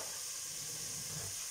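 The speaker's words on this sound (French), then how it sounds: "Ah, vous entendez le thermomix?" Basmati rice cooking in a Thermomix gives off a steady, hissing, sizzling steam sound, continuous and fairly quiet, with no voices.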